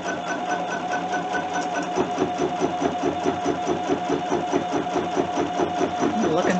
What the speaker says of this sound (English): now we're going to top stitch this down